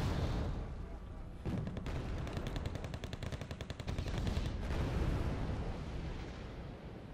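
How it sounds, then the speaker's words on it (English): Fighter jets' bombs bursting across a battlefield in Wargame Red Dragon, a dense, continuous rumble of rapid explosions and fire heard at a distance with a brief gap and steady roar throughout. "More fighting Falcons dropping in their bombs."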